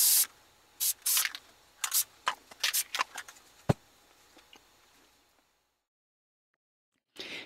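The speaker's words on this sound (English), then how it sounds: "a final spray of clear coat will finish it and reinforce all the edges" Short bursts of an aerosol spray can laying clear coat onto a Eurorack synth module panel, close and crisp, in an irregular run of hissing puffs that thin out, then silence before one last spray.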